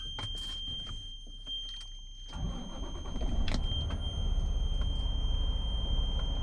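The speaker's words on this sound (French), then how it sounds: "on part le moteur et on enlève le frein de stationnement" A truck engine cranks and catches, then settles into a steady low rumble that grows louder and keeps running, during a brake test.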